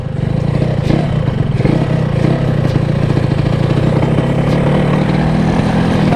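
Yamaha RX King motorcycle on a test ride in Bogor, a loud, steady two-stroke engine drone heard close up, with rattling clatter and no speech over it.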